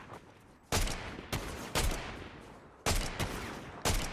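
Gunfire in the video game Fortnite, with five sharp, loud shots spaced irregularly over a steady background, each one cracking and fading quickly.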